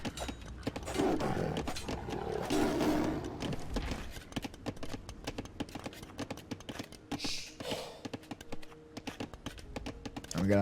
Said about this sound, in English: It's getting beat up by a tiger.